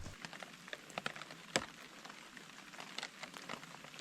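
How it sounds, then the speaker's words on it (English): Rain patters on a bivvy at a loch-side campsite, scattered drops tapping the fabric at close range over a quiet background, with a few sharper hits standing out. "It's raining quite badly."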